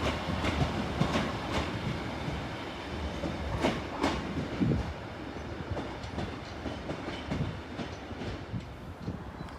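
Northern Class 156 diesel unit 156422 rolls through Sheffield station bound for Manchester Piccadilly, a steady rumble of wheels and engine with occasional rail clicks and a faint squeal.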